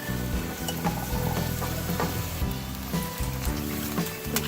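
Water is poured into a hot pan of softened fried onions with whole garam masala and garlic for Arabian chicken mandi, giving a loud, steady sizzle and bubbling with no voices.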